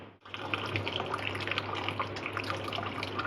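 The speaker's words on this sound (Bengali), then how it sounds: "এবার কিন্তু আমি নর্মাল ওয়াটার দিয়ে ছানাটাকে ভালো করে ধুয়ে নেব।" Tap water runs steadily over fresh chhena curds being washed for rasgulla, a continuous close splashing and trickling stream with no pauses.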